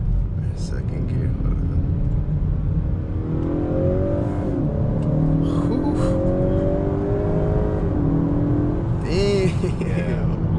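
A 2019 Honda Accord Touring with the 2.0T turbo engine pulls hard in second gear, its engine note rising steadily as it accelerates and heard from inside the cabin, with brief exclamations from occupants near the end.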